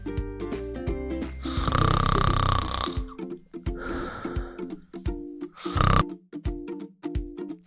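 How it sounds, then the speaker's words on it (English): Cartoon-style snoring in deep sleep, a few loud rasping inhales and snorty exhales set over a bouncy musical backing. "When we sleep deep and cozy, we snore."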